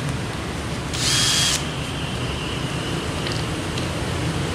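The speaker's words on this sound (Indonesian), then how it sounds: "bor tangan." A hand drill whirs briefly while tapping a thread in aluminium with cutting oil, a short high-pitched burst at close range, then faint workshop background and a small clicking tap.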